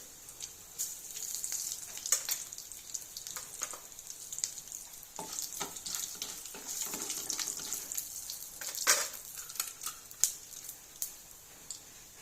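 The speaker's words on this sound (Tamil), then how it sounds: "சுண்டக்காய் வறுபட்ட உடனே கடுகு போட்டிருக்கேன் சிறிதளவு வெந்தயம்" Mustard seeds and fenugreek sizzle in hot frying oil just after roasted sundakkai, with a close, steady crackle and scattered sharper pops for a home-cooked postpartum vatha kuzhambu.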